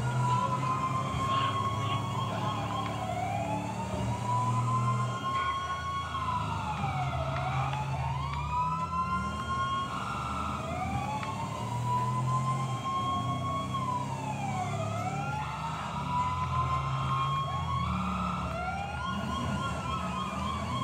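Modded emergency vehicle sirens in the video game GTA 5, police patrol setting, wailing and yelping continuously throughout at steady loudness, with several overlapping siren tones cycling up and down over vehicle rumble.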